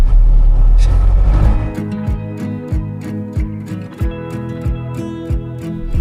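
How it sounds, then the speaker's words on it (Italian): A frozen-food truck drives over a rough road under construction; a low rumble fades into a series of rhythmic heavy thumps and rattles from the truck's engine. "Si è fermato il camion dei surgelati, credo."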